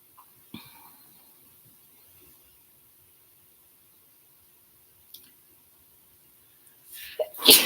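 A single sharp sneeze close to the microphone in a quiet room, followed by faint small noises and a louder burst of movement near the end.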